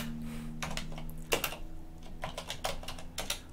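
Typing a terminal command on a computer keyboard while installing Arch Linux, a quick irregular run of quiet close key clicks in short bursts with one louder stroke.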